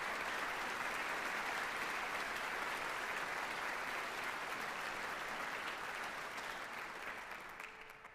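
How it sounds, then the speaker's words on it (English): Steady, full audience applause fills the hall at an orchestra concert for the concertmaster, dense and continuous before tapering off near the end. "That applause for the concertmaster for this concert"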